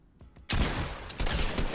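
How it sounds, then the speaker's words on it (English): Gunfire in Fortnite on Nintendo Switch, shooting through a built ramp: quiet faint clicks, then an abrupt loud burst of rapid shots that continues densely, with a second surge of firing near the end. "shoot through our ramp"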